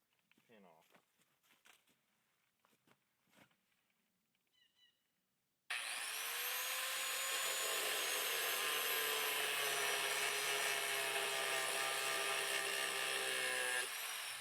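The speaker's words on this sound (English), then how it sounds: "Now I've got my grinder." An angle grinder starts up abruptly and grinds steadily at close range on the bottom door hinge pin of a Chevy Silverado, a loud sustained metallic whine, preceded by quiet clinks and handling with a voice speaking.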